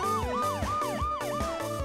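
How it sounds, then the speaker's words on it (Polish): Ambulance siren with a rapidly repeating rising-and-falling wail, several quick cycles in under two seconds, loud and steady with no voices. "więc będziemy musieli wezwać karetkę."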